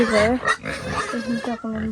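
Several pigs grunt and squeal eagerly at close range as they are fed, in short overlapping bursts, while a person talks among them.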